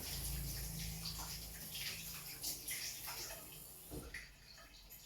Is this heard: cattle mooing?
no